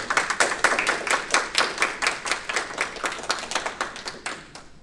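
An audience at a student union tech talk applauds steadily, a dense run of claps lasting several seconds with little talk over it.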